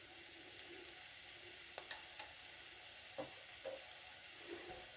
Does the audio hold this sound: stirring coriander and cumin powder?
yes